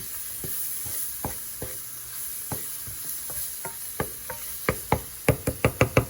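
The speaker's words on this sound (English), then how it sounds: "Grab my whisk and I'm gonna start whipping up my gravy." A whisk stirs gravy in a sizzling pan of cube steak drippings, a steady quiet sizzle under scattered scraping taps that speed up into a quick rhythmic clatter near the end.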